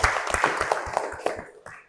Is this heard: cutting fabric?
no